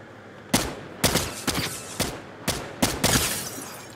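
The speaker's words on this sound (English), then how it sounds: "Stop shooting!" Fortnite Battle Royale gunfire, a series of about seven sharp, loud shots spaced roughly half a second apart, each with a short echoing tail and no voices over them.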